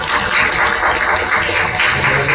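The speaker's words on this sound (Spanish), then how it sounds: "Un fuerte aplauso, por favor." An audience applauds to welcome Dr. Iván Lanegra at the opening of a Spanish-language event, a steady, dense wash of clapping from many hands at fairly close range, with no voices over it.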